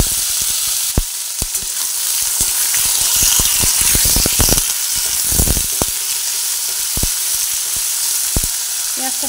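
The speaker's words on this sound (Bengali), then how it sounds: "পেঁয়াজটা ভেজে নেওয়ার সময় এর মধ্যে" Chopped onion frying loudly in a pan with a bay leaf, a dense, close sizzle over which sharp spoon scrapes and clicks land irregularly.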